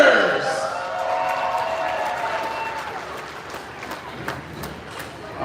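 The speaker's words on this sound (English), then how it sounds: "So let's give a big round of applause" Loud rodeo crowd applause and cheering at a livestock show arena, starting strong and sustained over several seconds with scattered sharper claps as it slowly thins, a voice faintly mixed in.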